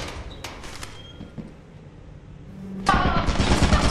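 Turret opening fire in Lethal Company, a sudden loud rapid burst of automatic gunfire that starts abruptly after quieter moments of scattered clunks and footsteps and keeps rattling to the end.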